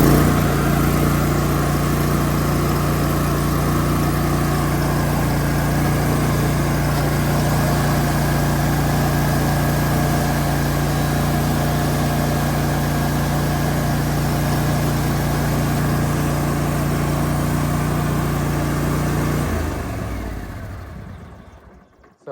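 A lawn mower fitted with aerator tines runs with a steady, loud mid-pitched engine drone for about twenty seconds before cutting off and fading to silence.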